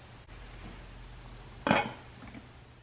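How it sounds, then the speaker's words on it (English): A lid is set onto a slow cooker of ham and butter bean stew, making one short, soft clunk in an otherwise quiet room. "Now I'm going to place the lid and cook this on low for 5 hours."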